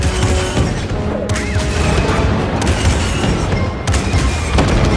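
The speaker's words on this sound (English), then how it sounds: "So that fires the cannons." Heavy booming cannon blasts from Star Wars Jedi: Fallen Order go off in quick succession over a constant loud roar, with sharp cracks punctuating the din.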